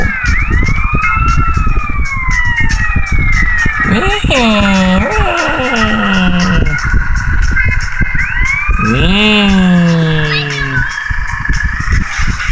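A police siren wails in rising and falling sweeps, twice, over a busy, noisy GTA game soundscape.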